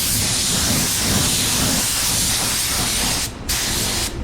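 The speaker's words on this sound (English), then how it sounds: "It's a very loud gun, but doesn't matter. It sprays well." Loud, steady hiss of a 3M Performance spray gun spraying with the trigger pulled fully open, continuous and close, with two brief dips near the end where the flow cuts out for an instant.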